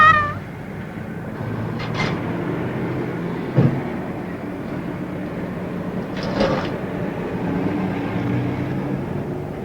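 A cat meows a couple of times against a steady low rumble of background noise, with a brief sharp knock midway.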